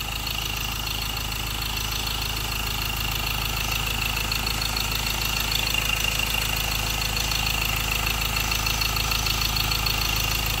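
A diesel engine idles smoothly under an open hood, giving a steady, even rumble with a constant mechanical hum that holds at the same level throughout, with no voices.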